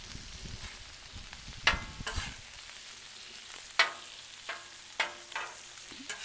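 Smashed burgers sizzling on a Blackstone griddle outdoors, a steady fry hiss punctuated by sharp spatula scrapes and clanks as the patties are worked.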